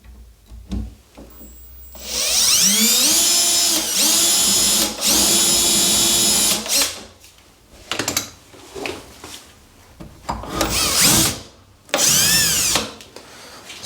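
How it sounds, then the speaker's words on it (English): A spade bit bores a hole through a wooden toilet door with a power drill, running in several long loud whining bursts with pitch sweeps as it bites, separated by short pauses, close up. "So I'll drill this first hole"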